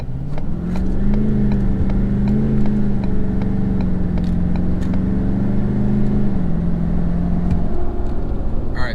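A 2017 6.7 Powerstroke truck tuned to 600hp accelerates hard from a stop on a busy highway, its loud, steady engine drone climbing and then dropping at a gear change late in the run.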